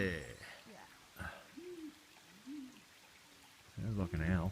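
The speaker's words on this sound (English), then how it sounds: "Sounds like an owl." An owl in a winter jungle in Australia gives a few soft, separated hoots at close to middle distance amid quiet surroundings, and a person speaks briefly near the end.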